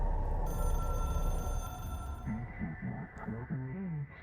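An in-game hotline telephone in the video game Control rings repeatedly in a warbling electronic pattern, loud and close, over a steady tonal hum that cuts out partway through.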